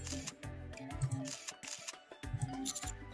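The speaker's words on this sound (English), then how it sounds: "I turn my head towards the sound of a shutter opening and closing" Camera shutter clicks from the Nikke game scene with a beach and palm tree, sharp mechanical snaps repeating a few times over game music.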